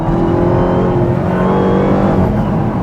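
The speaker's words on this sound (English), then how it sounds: "Real easy getting on the throttle." A Dodge Charger Hellcat widebody on a mountain road gives a loud, close, continuous engine drone with steady low harmonics as the throttle is fed in gently, with no talk over it.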